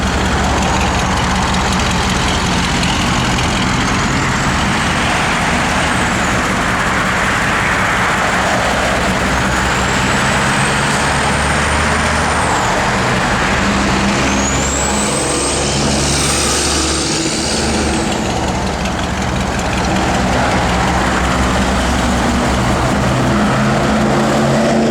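A 1957 Chevrolet 210 Wagon engine runs steadily on a cold morning, a loud continuous rumble with a whining tone rising and falling above it, and no talking.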